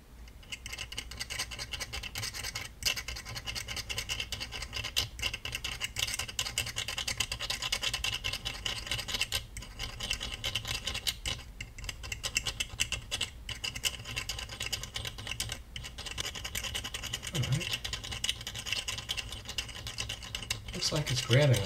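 Steady close scratching and rubbing as liquid gallium is worked into a metal surface, a dense continuous scrape for the whole stretch with brief pauses and a few louder scuffs near the end.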